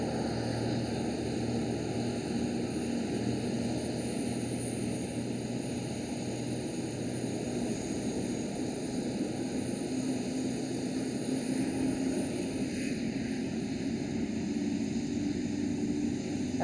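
A KLM Boeing 737-900 in SkyTeam livery arrives at Amsterdam Schiphol, its engines a steady, moderately distant drone with a low hum that holds evenly throughout, no voices present.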